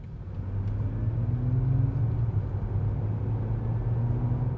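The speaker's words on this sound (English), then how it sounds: "BMW has given this car an acceleration sound in EV mode. It's a subtle, almost combustion car-like whirring sound." BMW M5 Touring (2025) in EV mode accelerating with its synthetic whirring sound, a low steady hum and rumble that swells slightly and holds, smooth and subtle, with no talk.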